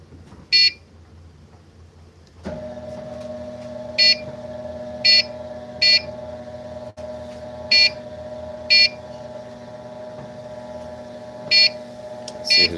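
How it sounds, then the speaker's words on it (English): Sharp electronic beeps repeat at irregular intervals over a steady low electrical hum, with no one speaking. "Sorry for the beeps."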